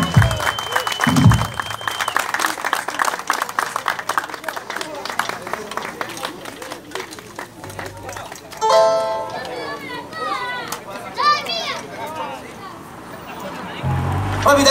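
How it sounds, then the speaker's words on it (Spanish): Sustained applause from a crowd, with children's voices and chatter mixed in throughout. "Fuerte aplauso para ustedes."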